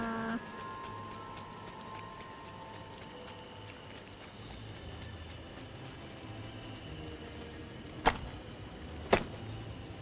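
Steady rain pours down in the Disney Dreamlight Valley video game, a continuous hiss of downpour with a few sharp clicks near the end and no talk.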